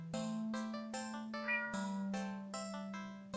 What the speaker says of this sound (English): You make it halfway out the alley when the cat meows almost pitifully at you.